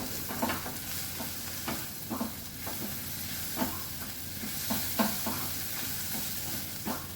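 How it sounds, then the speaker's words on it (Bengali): Spice masala with coriander, cumin and Kashmiri chili powder fries in a pan, a soft continuous sizzle broken by repeated scraping stirs at an uneven rhythm, close but moderately quiet. "লঙ্কার গুঁড়ো একটু কাশ্মীরি লঙ্কার গুঁড়ো এবার আমি মশলাটা একটু কচিয়ে"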